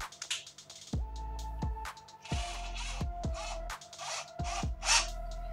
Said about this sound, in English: we can sand down our mast